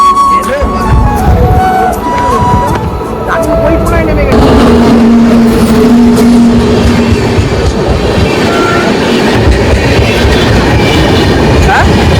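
A train runs along the railway line close by, loud and continuous, with rhythmic clickety-clack from the wheels, a brief squeal and a heavy rumble that swells and then holds steady.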